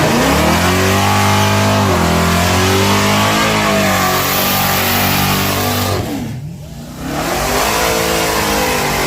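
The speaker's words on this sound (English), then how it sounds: "I like the way he do his burnout." A drag racing car does a burnout at the strip, its engine revving hard and loud, holding high, then dipping briefly before roaring back up.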